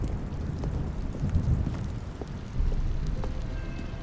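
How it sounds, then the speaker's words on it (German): Rain falls steadily in the video game The Stanley Parable Ultra Deluxe, a continuous soft hiss of drops with faint scattered patters, even and moderately loud throughout. "Vor allem regnet es."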